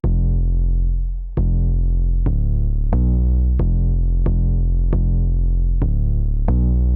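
A simple, punchy distorted 808 bass line for a trap beat, booming long sustained notes with sharp attacks roughly every half second to second, loud and alone with no voices.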